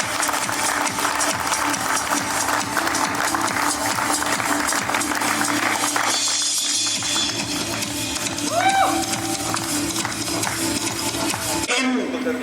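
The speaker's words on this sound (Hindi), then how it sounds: "प्लीज क्लैप फॉर देम, जोरदार तालियां" Applause from an audience at an employees' award distribution function, a steady wash of clapping with crowd stir and voices mixed in, ending with a brief break near the end.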